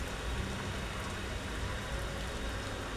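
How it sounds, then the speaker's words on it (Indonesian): Steady rain falls around the Al Azhar area in Egypt: an even, dense hiss of drops on surfaces with no breaks and no voices. "hujan berkah, insya Allah."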